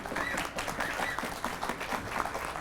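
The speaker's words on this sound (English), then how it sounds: "He needs a round of applause for this." Audience applause at a tech talk, a steady wash of many hands clapping throughout, moderately loud, with faint murmurs underneath.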